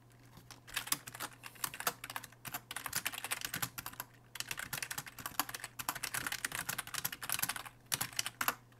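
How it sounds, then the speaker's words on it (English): Bursts of keystrokes on a computer keyboard, irregular clicking runs broken by short pauses, close and clear over a faint low hum, with nobody talking. "Sorry for my slow typing today."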